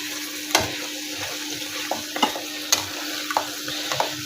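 A ladle repeatedly scrapes and stirs kadah, a sweet halwa, in a pan, with light sizzling throughout and sharp clinks at irregular intervals, close and steady, with no talk.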